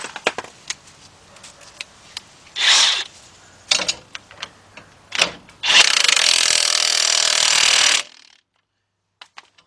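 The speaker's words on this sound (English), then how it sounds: "Take our 24mm and tighten that" A 24mm socket tightens a nut on a 2005 Chevy Trailblazer during control arm, ball joint and hub bearing work. Sharp metallic clicks come first, then bursts of ratcheting, one long steady rattle, and a stop to near silence.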